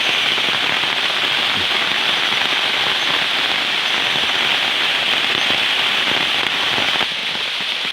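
Rain falls steadily in a forest in Bamenda, a dense, even hiss of drops on leaves and ground that stays loud and continuous throughout, with no voices.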